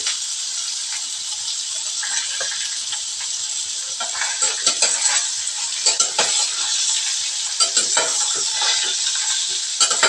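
Fried potatoes and chopped ridge gourd stirred in a hot pan, a bright continuous hiss of frying with scraping and rattling spatula strokes growing busier in the second half, close up and with no voices.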